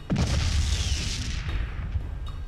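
A lascannon shot from a Space Marine in a Warhammer 40K battle, a loud booming blast with a sharp crack at the start and a heavy rumble that fades over two seconds.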